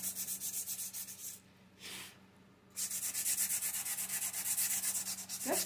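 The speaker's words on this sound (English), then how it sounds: "I'm just going to sand it down" Rhythmic, raspy strokes of sanding a wooden shelf by hand, steady back-and-forth scratching close by, pausing briefly midway before resuming.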